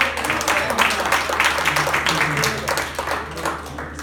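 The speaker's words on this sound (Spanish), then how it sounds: "Un aplauso para..." Audience applause fills a hall after a talk, a dense steady patter of clapping lasting several seconds at moderate loudness, with faint voices mixed underneath.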